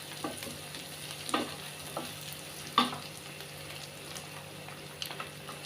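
Broad beans and turmeric frying with salt in a pan, a faint, steady low sizzle with occasional soft stirring clicks and scrapes, no talking.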